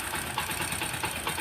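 A repaired engine idles after an oil pump fix: a steady, even mechanical hum with faint regular ticking, close, continuous and alone with no talking.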